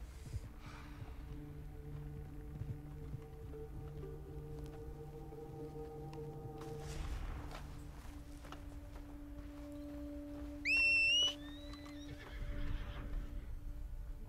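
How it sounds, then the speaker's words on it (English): Horse in the Red Dead Redemption 2 video game whinnies in a sharp, rising burst midway, with soft hoof clip-clop and game ambience around it and no talking. "Pretty sure if I just got on the horse, we'd cover more ground much easier."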